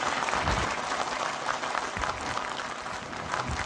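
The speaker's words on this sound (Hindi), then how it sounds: "तालियां।" Applause sound effect from an Android mobile game, a steady wash of crowd clapping that fills the whole stretch at an even level with no voices on top.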